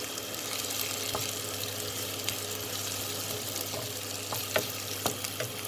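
Button mushrooms cooking in a pan after being covered for a minute, now stirred: a steady moderate sizzle with occasional light clicks and scrapes, no voices.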